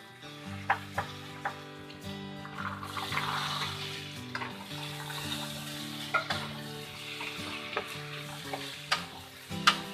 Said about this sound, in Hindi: और इसको भी अच्छे से हम मटर को भूनेंगे